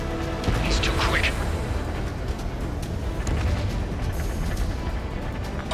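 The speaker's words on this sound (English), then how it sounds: "Spare 15, missile away" Missiles firing and blasts during an aerial dogfight in the Ace Combat 7 video game, a dense, continuous roar of booming explosions and jet noise with radio voices talking over it.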